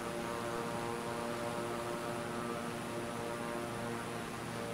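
Steady propeller airplane drone in flight in Microsoft Flight Simulator on Xbox Series X, a constant tonal engine hum with layered harmonics over broadband wind noise, even and unbroken throughout, no voices.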